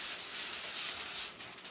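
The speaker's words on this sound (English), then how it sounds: "I take the aluminum foil and I spray it" Cooking spray hissing onto a sheet of aluminum foil in one steady close burst, then breaking into a few short sputters at the end.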